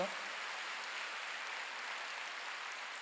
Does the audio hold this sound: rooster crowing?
no